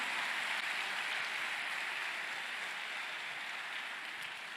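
A church congregation at an evening youth conference service applauds in a dense, steady wash of clapping that slowly fades toward the end.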